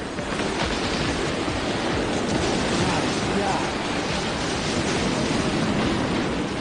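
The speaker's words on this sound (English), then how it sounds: "The sound of the waves was deafening, thundering." Pounding surf from a raging ocean slams against a swaying pier, a loud continuous roaring wash of waves with no pauses.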